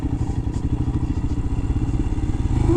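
Royal Enfield Himalayan motorcycle ridden off tarmac, its single-cylinder engine thumping in a steady fast pulse close up, with rattles and clatter over the exhaust beat and the rumble rising slightly toward the end.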